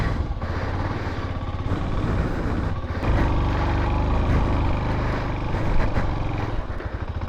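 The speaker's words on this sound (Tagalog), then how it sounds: "Yun yung motor natin" Honda TMX motorcycle with a persistent ticking fault, its engine running loud and close, a dense, steady mechanical roar for several seconds without talk.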